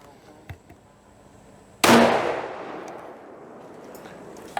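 A single loud 6.5 rifle shot firing PPU 140 grain ammunition over a chronograph, a sharp close crack followed by a long fading rumble and echo outdoors.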